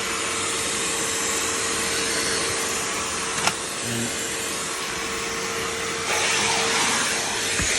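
A carpet steam cleaner extractor runs continuously while detailing the interior of a Ford Falcon EB, a loud, steady whining roar with a brief bump partway through and no voices.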